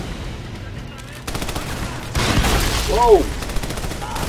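Rapid automatic gunfire crackles in Army of Two: The Devil's Cartel, building from a sparse rattle into dense bursts, while a man lets out a brief exclamation over the shooting.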